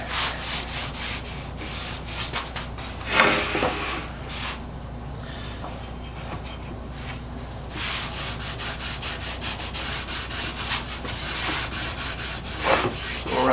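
Paste wax being rubbed by hand onto a wooden picture frame gives a steady, close scrubbing and rasping texture that runs throughout, with a couple of slightly louder strokes and no talking.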